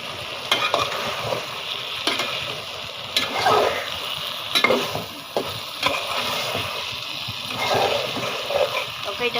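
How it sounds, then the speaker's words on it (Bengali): Radish and flat-bean curry sautés in a pan while a spatula stirs and scrapes through it, the close, steady sizzle broken by stirring strokes about every second. "দুটোটা একসাথে কষে যাক"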